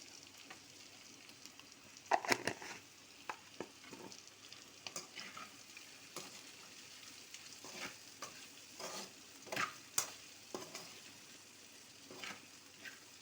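Okra (bendakaya) fries quietly in a pan with a soft steady sizzle, punctuated by sharp scrapes and clinks of stirring at irregular intervals, close and fairly faint overall.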